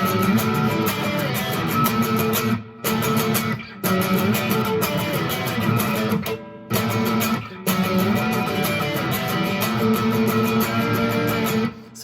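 A loud, cranked electric guitar strums a song in dense, distorted chords, with a few brief stops between phrases and no voice over it.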